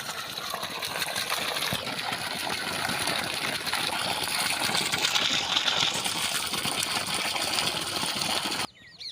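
Water gushes steadily and loudly from the full 1.5-inch delivery pipe of a solar-powered AC/DC borewell pump, lowered 500 feet into a 700-foot bore, as a continuous close rushing wash that drops away only at the very end.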